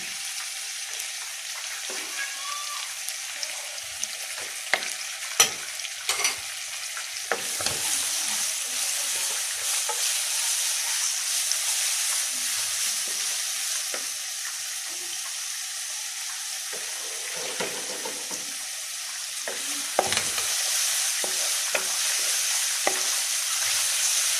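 Fish curry masala with plenty of garlic paste frying in oil, a loud, even sizzle holding steady the whole time, dotted with occasional soft stirring knocks and scrapes, near and without speech.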